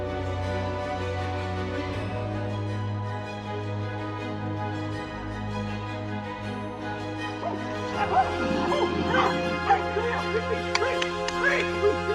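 A dog rescued by villagers from a giant python whimpers and yips, its high cries rising in the second half over a steady hum and background noise.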